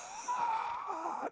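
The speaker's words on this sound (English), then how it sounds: "if you make sure that you breathe all the way out. So you're almost gasping at the end of it" An exaggerated, drawn-out breath pushed all the way out during a vocal warm-up exercise, ending in a strained, wheezy gasp, close and fairly soft.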